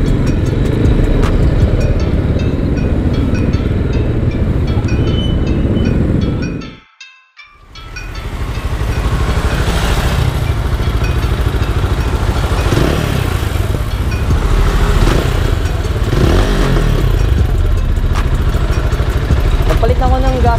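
A Rusi Sigma 250 motorcycle engine runs loud and close with a steady rough exhaust drone. The bike has an engine noise and backfire problem and a newly replaced exhaust gasket. The engine briefly cuts out, then restarts and idles on.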